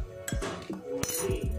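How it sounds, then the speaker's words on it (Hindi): A spoon clinks against a dish while black pepper is stirred into a paneer dish: a handful of quick, light metallic taps, close and fairly quiet, with no talk. "इसमें मैं मिला रही हूँ काली मिर्च आधा चम्मच"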